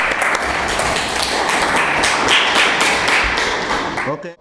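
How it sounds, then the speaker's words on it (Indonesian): Classroom applause for a student group after their speech: dense, steady clapping from a room of students holding at an even level for about four seconds, then cutting off abruptly. "Kita berikan tepuk tangan."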